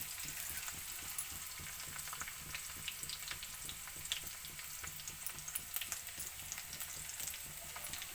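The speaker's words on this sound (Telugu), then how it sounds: "ఈ ఆనియన్స్ ఇది రెండు కలిసి ఫ్రై అవుతాయండి." Chopped onions sizzle and crackle in a pan with garlic and ginger, a steady, fairly quiet frying hiss with scattered pops and no voices.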